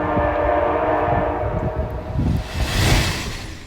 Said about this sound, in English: The Eastbound Capitol flies through Kensington, Maryland on its way to Washington.